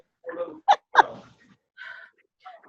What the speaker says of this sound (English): I couldn't stand that barking, and I didn't know if you heard it either.